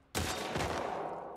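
Gunfire in The Last of Us Part II bursts out suddenly after a short quiet, a loud close blast followed by a second shot and ringing decay.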